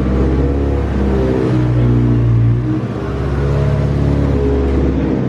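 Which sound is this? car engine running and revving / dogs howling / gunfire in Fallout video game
car engine running and revving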